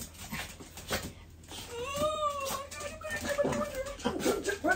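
A small chihuahua whines and whimpers close by in a home, producing rising and falling high-pitched yelps and moans in a couple of bursts, with faint background sounds between them.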